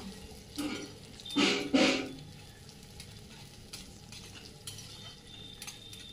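Onion and garlic roasting in a pan for a thin chickpea-greens curry, stirred with a spoon, giving a few brief scraping bursts over a soft background sizzle, near and moderately loud.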